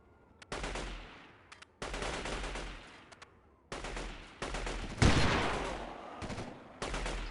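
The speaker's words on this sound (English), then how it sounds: "I'm sure I'm using a sniper rifle, not a cannon" Sniper rifle shots in the video game Delta Force 2 boom in five heavy, separate blasts spaced about a second or more apart, each ringing out with a long decaying echo, loud and close.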